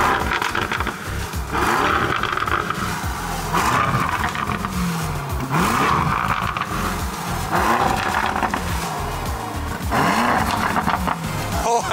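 A Porsche engine revs hard in cold weather, roaring up and dropping back in loud, close bursts about every two seconds, each rev sweeping sharply upward.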